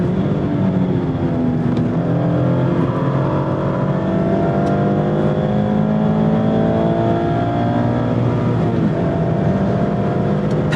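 2024 Mazda MX-5 Miata Club ND3 with its 2-liter inline-4 being driven on track, a continuous engine note under wind and road noise that rises and falls through gears as the car laps.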